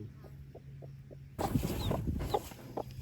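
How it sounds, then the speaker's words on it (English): Soft, regular clucks from a hen, then rustling and mixed chicken noises take over, close by with a faint background hum. "There's 2 chickens"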